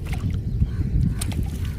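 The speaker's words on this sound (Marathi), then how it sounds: "भाऊ अजून होडी चालवतात बघा" A rowing boat moves over water, with low sloshing and the muffled knock of oars in a brief, steady stretch, partly covered by wind noise on the microphone.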